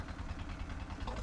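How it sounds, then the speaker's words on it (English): A motorboat engine runs with a steady, low, throbbing drone, faint and continuous, over a brief stretch. "And it's actually the motorboat."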